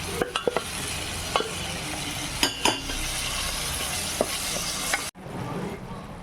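Squid roast sizzles in a pan while a utensil stirs it, with scattered scrapes and metallic clinks over steady frying hiss, then a sudden brief cut to quieter sizzling near the end.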